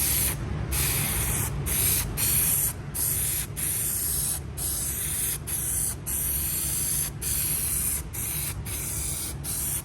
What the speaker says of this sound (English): I'm going to go ahead and spray the panel itself.